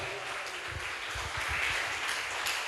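A church congregation claps together, a soft, dense patter of applause that is steady and fairly distant for a few seconds.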